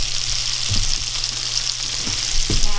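Onions grilling on a griddle, a loud, continuous close-up sizzle with a steady hum beneath and a few soft knocks or scrapes scattered through.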